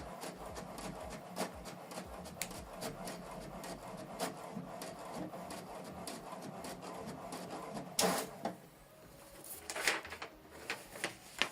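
An HP Deskjet 4300 series inkjet printer runs a test page, giving a steady mechanical whir with repeated clicks and the rub of paper feeding, then a louder burst of shuffling near the end. It is heard close up.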